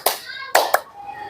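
A child's handclaps in a counting clap game, three sharp claps with a short gap after the first and a quick pair close together, near and fairly loud.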